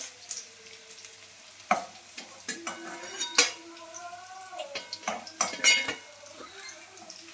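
Cauliflower and bottle gourd fritters sizzle in hot oil in a home kitchen while metal utensils clink and scrape sharply against the pan, with irregular clatters as pieces are lifted out one by one.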